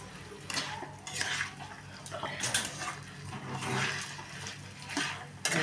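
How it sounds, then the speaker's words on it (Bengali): Water splashing into a pot of rajma in a home kitchen, arriving in a few uneven pours with metal clinks of the vessel between them, close by and fairly loud. "এবার আমি এর মধ্যে জল দিয়ে দেবো।"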